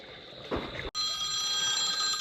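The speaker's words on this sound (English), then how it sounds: "There's the phone." A telephone bell rings in a shop, a bright, steady electronic trill that starts abruptly partway through, loud and close, with a short rustle before it.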